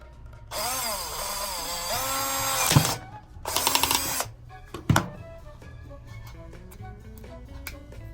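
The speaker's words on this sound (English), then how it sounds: "let's drill some hole." A power drill whines loudly in two bursts, the second shorter, then cuts out, leaving a quieter rattling hum with a couple of sharp knocks.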